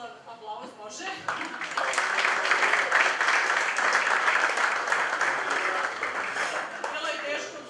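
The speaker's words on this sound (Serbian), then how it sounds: "aplauz može" An audience at a school awards ceremony for electronic portfolios breaks into steady applause. A voice speaks over the start, then the dense clapping swells and holds before tapering off near the end.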